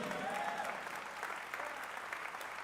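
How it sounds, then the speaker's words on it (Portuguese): A church congregation applauds during a sermon, a steady wash of many hands clapping that sounds fairly distant and soft, with no speech over it. "pode aplaudir o Senhor"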